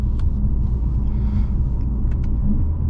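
Mercedes-AMG GLA45 four-cylinder engine giving a deep, steady rumble from inside the car, loud and continuous with a few faint clicks on top.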